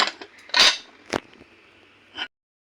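Thick, sturdy dinner plates salvaged while dumpster diving are handled, giving a few sharp ceramic clinks and knocks spread over about two seconds, fairly close and with no talking.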